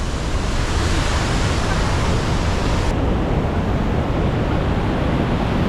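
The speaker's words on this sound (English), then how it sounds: "We're on a rock in the middle of a waterfall" Rhine Falls pours in a constant, dense roar heard up close from a rock in the middle of the waterfall, unbroken and loud with no voices.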